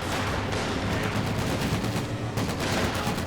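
Gunfire and explosions fill a Company of Heroes 2 battle, with a dense, continuous clatter of shots and bursts that stays loud and close throughout, without talking.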